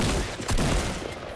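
Shotgun fire in a video game: a brief, dense burst of loud blasts packed into just over a second, harsh and close, with no talk.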